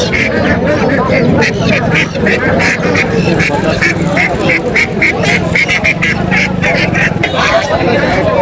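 Ducks quacking in loud, rapid repeated calls at a crowded poultry market, with a dense hubbub of people talking all around throughout.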